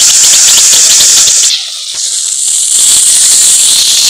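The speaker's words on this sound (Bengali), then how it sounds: "বন্ধুরা, দ্বিতীয় পিঠটা আমরা আবার ভাজছি মাছটাকে" A whole lote fish (Bombay duck) fries on its second side in a wok, giving a loud, continuous sizzle that briefly dips to a quieter crackle before the full hiss returns.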